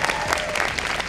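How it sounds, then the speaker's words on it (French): An audience applauding at a live show, dense steady clapping throughout that sounds close and fairly loud. "On les applaudit, les deux, tout à fait"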